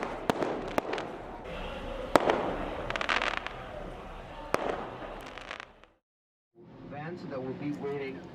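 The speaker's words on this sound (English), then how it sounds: "fireworks." Fireworks at evening break-fast celebrations in Egypt pop and crackle in sharp repeated bangs over a dense crowd roar, before a brief silence and then talking.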